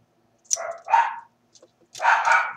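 A female dog gives a quick run of sharp, close barks indoors, three loud yaps with a brief pause before the last pair.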